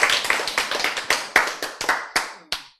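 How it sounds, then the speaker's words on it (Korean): An audience at a Korean Bible lecture claps in a short, fairly loud burst of about a dozen crisp, separate hand claps that thin out and fade within about three seconds. "자, 박수."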